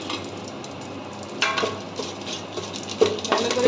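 Bay leaf and whole spices frying in ghee in a hot pot, a steady soft sizzle with a few light scrapes and clinks of a utensil against the pan.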